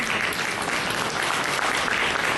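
An audience at a political talk breaks into steady applause, a dense wash of clapping hands that stays loud and even throughout, with no voice on top.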